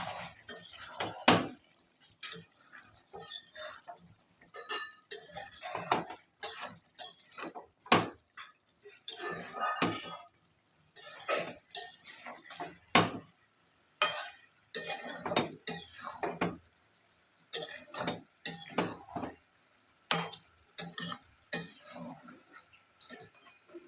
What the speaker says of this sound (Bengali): আবার ঢাকনা খুলে দিলাম, আবার একটু নেড়ে নেবো ভালো করে।